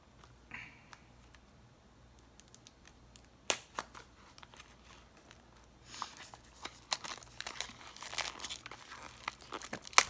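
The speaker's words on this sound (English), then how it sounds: "Take the plastic wrap off this." Plastic wrap is torn and crinkled off a box, starting as faint scattered crackles and rustles, then building into louder, denser tearing and crumpling up close.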